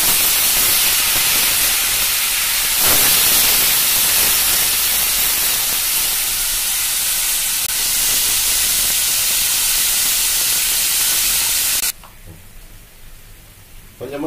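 Tamarind mixture for puliyodharai boiling in a pan, a loud, steady bubbling hiss and sizzle that runs continuously before dropping abruptly to a quieter simmer near the end.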